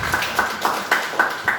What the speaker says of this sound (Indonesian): Ibu boleh kasih tepuk tangan?